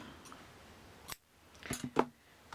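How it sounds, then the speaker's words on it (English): Scissors trim the raw edge of fabric while sewing a frilly baby top, making three or four crisp, close snips spaced unevenly over a quiet background. "I'm going to trim that out of the way"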